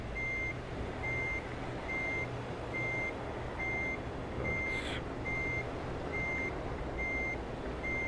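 Steady reversing beeps from a Volvo FM hauling a lowbed trailer in Euro Truck Simulator, evenly spaced pulses repeating throughout over a constant low diesel engine rumble, with a brief air hiss partway through.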